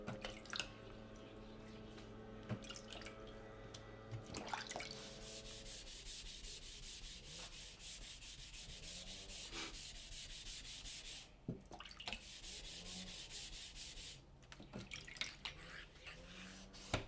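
A knife blade is stroked over a wet 6000 grit whetstone in steady, close scraping passes with slight watery sounds. Low, faint background tones run through the first part.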